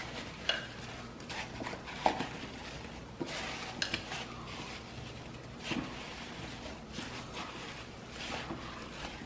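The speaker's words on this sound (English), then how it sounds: "Stir well." Spoon stirring dark brown sugar into spiced apple butter in a slow cooker, soft scraping and occasional light clinks against the crock, close and fairly quiet, alone without talk.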